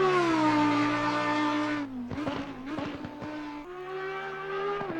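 Audi EVO GT3 race car in Assetto Corsa Competizione at Oulton Park, its engine droning loud and steady, then dropping through rapid downshifts with crackling bursts around mid-clip before climbing again in a harsh, sustained rev.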